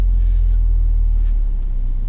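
Inside a car on a UK driving lesson, the engine holds a loud, steady low rumble with a slight rise in revs, heard up close from the cabin without talk.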